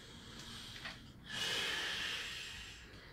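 A massage client draws a deep, slow breath, an airy rush of breathing that swells midway and then fades gradually, close and clear in a quiet room.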